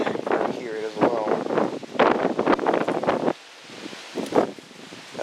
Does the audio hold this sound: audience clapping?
no